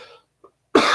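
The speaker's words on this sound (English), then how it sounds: "As I cough in your ear." A single sharp, close cough bursts out after a brief quiet pause, following a faint trailing voice.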